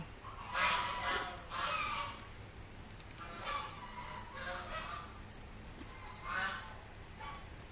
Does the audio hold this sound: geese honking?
yes